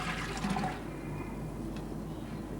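Liquid is poured from a mug into a big container of water, a brief close splash and gurgle in the first second that fades into a quiet steady background.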